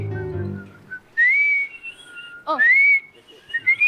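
A person whistles a few short rising and sliding notes, close and fairly loud, with a brief spoken exclamation near the start.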